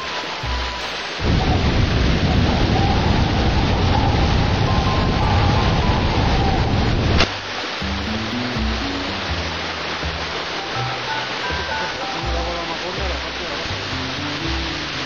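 An outdoor shower in Cercedilla gushes loudly for about six seconds, a steady rushing hiss of running water that cuts off abruptly, followed by people talking nearby.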